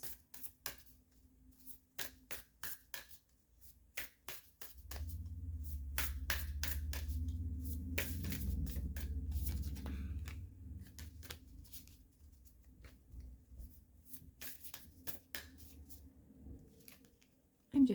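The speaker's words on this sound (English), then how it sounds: "I'm just shuffling to make sure these are nice and mixed" Soft, rapid shuffling of oracle cards in quick bursts, with brief pauses between them and a steadier stretch of riffling over a low background hum.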